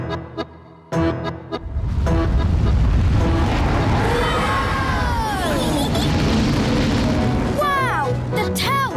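A cartoon tower turns into a rocket and blasts off with a loud, sustained roaring rumble after a few sharp hits, then whistling, swooping tones and scattered pops as it flies away.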